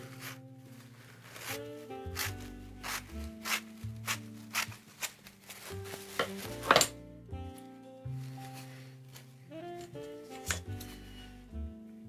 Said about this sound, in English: So I'm going to cut this into strips.